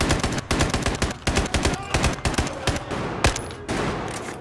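Rapid bursts of gunfire from a Battlefield 4 battle, sharp repeated shots in quick clusters with a few heavier cracks, loud and close over a busy combat background.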